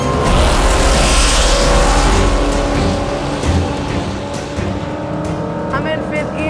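Nitrous-fed and supercharged drag cars launch side by side down the strip, a loud sustained engine roar with tire noise, rising and holding steady under a commentator's voice.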